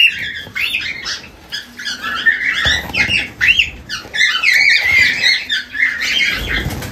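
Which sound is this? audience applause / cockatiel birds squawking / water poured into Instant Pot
cockatiel birds squawking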